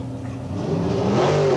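Dick Landy's drag race car at Boundary Bay Raceway does a burnout, its engine roaring close and loud and revving higher over a brief stretch.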